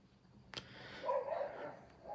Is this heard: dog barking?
yes